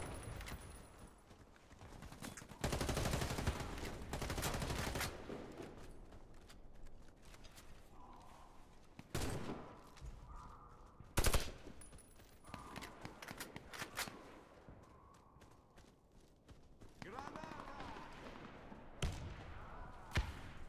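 Gunfire in the first-person shooter Warface, several bursts of loud, sharp shots and rapid volleys separated by quieter stretches, with a few isolated cracks later on.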